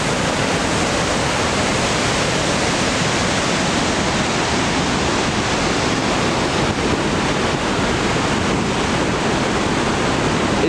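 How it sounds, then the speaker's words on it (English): Roaring rush of a Yellowstone waterfall heard up close, a loud, steady broadband torrent of crashing water that fills the whole scene without pause or voices. "this is the same waterfall that we were looking at from a distance. This is it up close."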